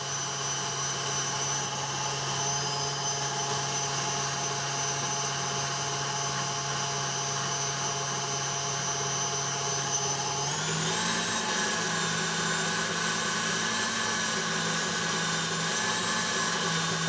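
A stand mixer running at speed 6 whisks macaron meringue with a steady high-pitched motor whine. The pitch shifts slightly partway through, and there is no talking.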